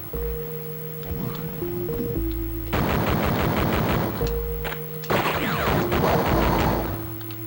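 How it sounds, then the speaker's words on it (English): Rapid pistol fire from Duke Nukem 3D on the Sega Genesis in the Spaceport level: quick, harsh bursts of shots come in clusters over steady synthesized game music. "you have to be careful with the pistol, man. You shoot real fast. It's like a machine gun."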